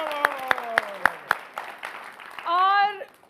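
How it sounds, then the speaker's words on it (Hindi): Audience at a Hindi poetry gathering clapping in a brisk, even rhythm, about six sharp claps over a sliding tone, followed by a sustained voiced sound, near and fairly loud. "जोरदार तालियां"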